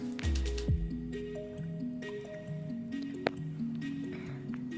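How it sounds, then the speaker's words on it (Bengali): Wet chhena curd is squeezed in muslin cloth to press out the whey, giving soft squishing and dripping sounds under steady background music. "খুব সুন্দরভাবে চেপে চেপে ছানার জলটাকে বাদ দিয়ে দিতে হবে।"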